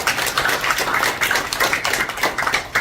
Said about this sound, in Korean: 박수 한번 쳐주십니까?